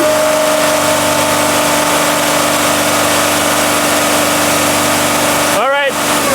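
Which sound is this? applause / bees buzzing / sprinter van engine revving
sprinter van engine revving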